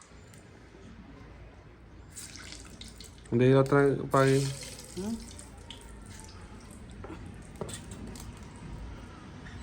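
Water runs steadily from a tap over hands, a soft continuous splash, while a voice speaks briefly over it midway.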